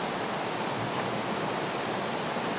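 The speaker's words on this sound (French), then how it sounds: "et le guide Roberto, au sommet de la cascade de Salto Morato." Roaring water at the top of the Salto Morato waterfall in Brazil's Atlantic forest forms a constant, dense rush of noise with no pauses.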